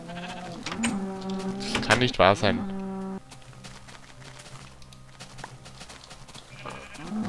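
Sheep in Minecraft bleat in short, bright, wavering calls clustered near the start, loud and close, followed by quieter game ambience while someone speaks German over parts of it.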